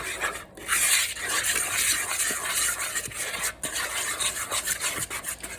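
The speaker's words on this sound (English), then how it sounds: "we're just gonna give it a little mix" Eggs, flour and oil are mixed in a bowl, making a continuous rubbing, scraping stir with a soft rhythmic texture that stays close and steady for several seconds.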